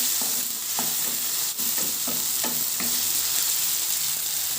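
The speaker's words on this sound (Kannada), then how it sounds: "ಕರಿಬೇವು ಹಾಕಿದ ನಂತರ ಟೊಮೆಟೊ ಹಾಕಿದೆ ಹಲವು ಮಾಡಿ ಫ್ರೈ ಮಾಡಬೇಕಿದೆ" Tomato and curry leaves sizzle and fry in a pan along with onion, a loud continuous crackle broken by repeated scraping stirs of a spatula, without speech.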